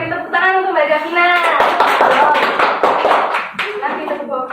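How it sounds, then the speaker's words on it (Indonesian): A classroom of students claps together for a classmate, a dense, steady patter of hands lasting several seconds, mixed with talking voices before and after. "beri tepuk tangan untuk Mbak Davina"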